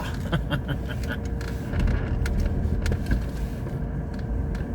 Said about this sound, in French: Non, c'est moi qui fais le frein à main là.